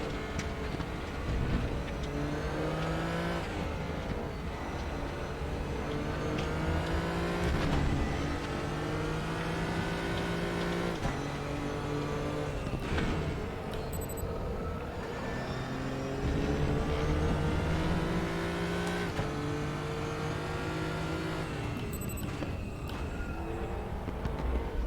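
Mustang race car in a sim racing game, its engine droning steadily and rising and falling through repeated gear shifts and revs, continuous and fairly loud with no talking.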